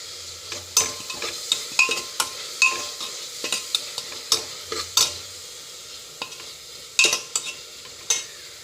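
Ginger garlic paste and tomato being sautéed in a pan for chickpea curry, with a steady sizzle broken by repeated sharp scrapes and clinks of a spoon stirring, loud and close throughout.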